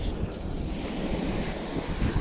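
Strong wind buffets the microphone during North Sea sea angling, a steady broadband roar blended with surf and water wash. It is continuous and fairly loud, with no clear voices.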